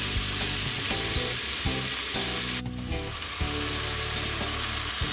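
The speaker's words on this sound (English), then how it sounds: "You can see it's getting some nice color on here. Just gonna let that continue to cook." Chicken satay sizzles steadily as it cooks in a pan, a dense continuous hiss with a brief dip midway, close and even throughout.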